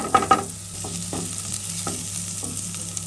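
Ingredients for a puttu recipe are stirred and sautéed in a pan over a low flame, with a soft, continuous sizzle and a few scraping strokes of a spoon against the pan, and no voices.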